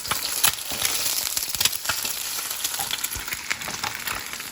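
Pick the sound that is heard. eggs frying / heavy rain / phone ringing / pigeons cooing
eggs frying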